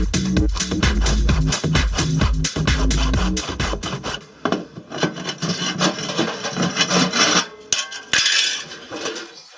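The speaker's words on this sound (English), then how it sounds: "I use fine-tooth saws in the most critical areas to avoid damaging anything." A fine-tooth saw cuts through a non-separable washing machine drum during a bearing repair, making loud, fast, rhythmic rasping strokes that thin into lighter, scattered scraping and clicks toward the end, with no talk.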